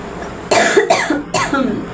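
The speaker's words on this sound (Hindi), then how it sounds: "खांसी हो गई, क्या करें।" Two or three harsh bursts of coughing from a woman, close and fairly loud, spaced unevenly with short pauses between them during a makeup session.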